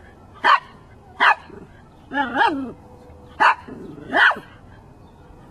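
A single dog barks for a sound-effects recording, giving six loud, close barks spaced about a second apart, some drawn out into whining yelps, with quiet pauses between.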